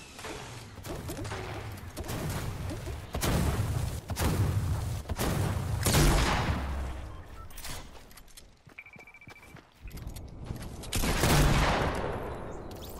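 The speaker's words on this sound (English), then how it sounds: "Grenade launcher called an egg launcher." Repeated heavy launcher blasts and explosions in a team shooter video game, several loud broad bursts spaced a second or two apart amid steady battle noise.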